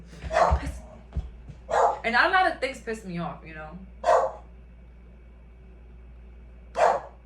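Several dogs bark in short separate bursts from close by while someone talks in between and over them.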